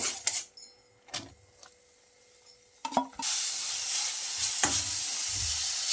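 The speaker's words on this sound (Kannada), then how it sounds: "ತೆಂಗಿನ ತುರಿ ಹಾಕಿ ಚೆನ್ನಾಗಿ ಮಿಕ್ಸ್ ಮಾಡ್ಕೋಬೇಕು" Grated coconut stirred into melted jaggery in a pan: a few scraping stirs and clinks, then a steady loud sizzle and hiss with occasional spoon strokes, no talk.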